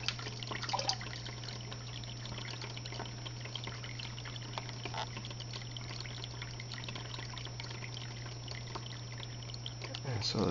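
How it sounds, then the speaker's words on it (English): Water pours and trickles steadily through an indoor DIY aquaponics siphon, a faint continuous flow over a low electrical hum, with a louder gush at the end. "And so the thing there is there has to be enough flow of water there."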